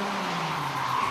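Car drifting at a tuning show, a continuous loud tire squeal with the engine roaring underneath, sustained through the whole moment.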